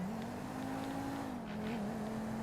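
A damaged car in GTA 5 with a struggling gearbox drones steadily at close range, its engine note holding one pitch and then dipping slightly midway, with no talk over it.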